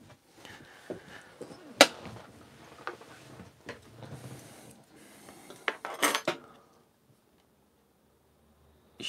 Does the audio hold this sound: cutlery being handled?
yes